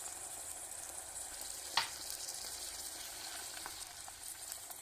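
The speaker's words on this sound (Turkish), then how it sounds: "Arkadaşlar bu şekilde kavuruyoruz." Beef for maqluba fries in a pan, giving a steady, close sizzle throughout with a single sharp clink from a utensil near the middle, and no one talking.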